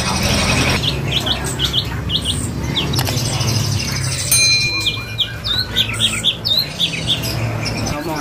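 A long-tailed Bahorok white-rumped shama chirps and trills repeatedly over a busy, rumbling background, its bright calls coming in quick, irregular bursts.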